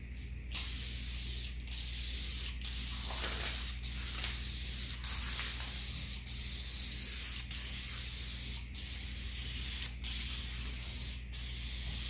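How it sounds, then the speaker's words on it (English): A continuous hiss from a can spraying clear lacquer onto a coffee table in long bursts separated by brief pauses, close and steady, over a low background hum. "as I'm spraying this on is I'm carrying the spray fully all the way through"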